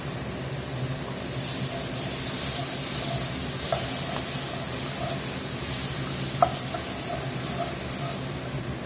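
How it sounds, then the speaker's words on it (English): Onions go into a dark roux for Cajun meatball stew, setting off a loud, steady sizzle and hiss that swells and then settles, with a few faint clinks of stirring. "We're going to get these onions in."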